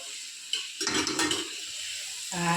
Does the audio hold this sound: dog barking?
no